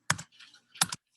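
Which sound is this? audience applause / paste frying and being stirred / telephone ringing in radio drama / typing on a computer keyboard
typing on a computer keyboard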